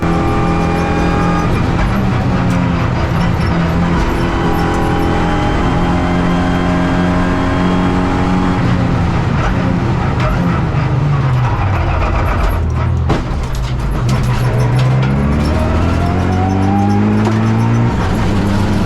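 Race cars in a Clio Cup race at Magny-Cours, engines screaming and revving continuously up close, pitch dropping and climbing again around a crash with a brief disruption mid-way, then loud acceleration resuming.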